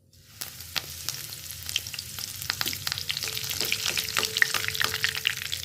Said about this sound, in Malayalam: നന്നായിട്ട് ചൂടായി വന്നിട്ടുണ്ട് എണ്ണ. അതിനകത്തേക്ക് നമുക്ക് കുറച്ച് കറിവേപ്പില ഇട്ട് കൊടുക്കാം